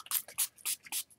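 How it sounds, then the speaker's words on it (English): A hand spray bottle gives four quick bursts of mist onto journal paper, each a soft hissing puff in a steady rhythm, close and fairly quiet. "So I'm just going to spray all the way across."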